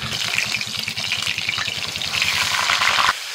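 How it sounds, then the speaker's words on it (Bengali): Prawns frying in a little oil in a wok give a steady, busy sizzle with crackling spatters, close and fairly loud. The frying runs continuously throughout with no talk, then the sound drops off abruptly near the end. "কড়াইতে অল্প তেল আছে, দিয়ে দিচ্ছি চিংড়ি মাছ। আমি এখানে মাছগুলো ভেজে নিচ্ছি"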